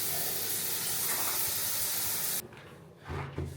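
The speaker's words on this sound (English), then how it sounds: "It's more of like a rainfall type nozzle." Water from a hotel rainfall-style shower head pours in a steady, dense hiss that fills the space close by, then cuts off abruptly, leaving faint thuds and handling noise.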